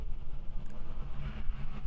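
Renault Clio Cup race cars at the Brno circuit roaring as the race starts, a dense continuous engine rumble with overlapping revs.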